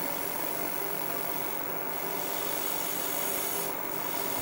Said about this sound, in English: Now to give it a little shine, I'm just going to use the cotton polish here.